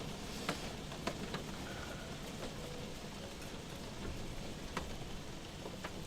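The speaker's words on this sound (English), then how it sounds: "Not sure if raining in game or outside sound. Ignore the hail." Steady rain with hail inside an online survival game, a dense continuous hiss with scattered sharp impact clicks and drops, fairly even and moderately loud with no talking.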